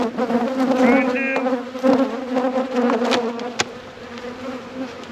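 Honey bees from a hive opened for its first deep inspection after winter drone in a dense, steady buzz close by, with pitch and loudness wavering throughout and no voices.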